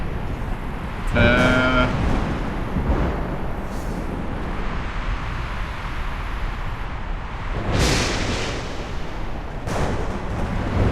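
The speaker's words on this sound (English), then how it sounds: "We have to wait for the storm to disappear." Heavy thunder from an electric storm in the game Ark Survival Evolved, Scorched Earth map, rumbles continuously as a loud, broad roar, with stronger crashes swelling near the end.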